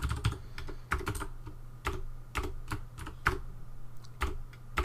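Computer keyboard typed on steadily in short bursts of close, crisp clicking keystrokes, with no talk.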